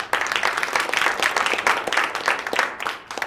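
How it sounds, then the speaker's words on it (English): A round of applause from an audience at a fellowship program presentation, brisk close clapping that swells and then begins to thin out. "So big round of applause for you."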